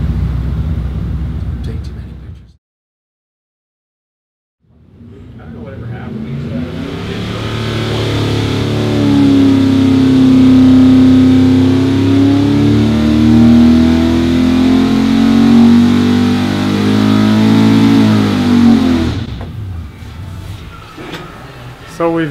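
A small-block Chevy with a 283 crankshaft in a 400 block, running 94 octane, revs hard on a dyno. A loud sustained roar rises and holds for about fifteen seconds, framed by brief talk before and after.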